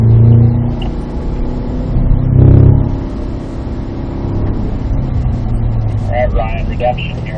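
A Cadillac CT5-V Blackwing drives through a track chicane, its engine droning loud and steady inside the cabin, rising and falling with throttle, while a voice talks over it.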